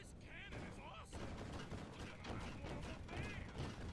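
Cannons firing in Sly Cooper: Thieves in Time video game, dense booming blasts and mechanical clatter layered over busy game music, with brief voices mixed in.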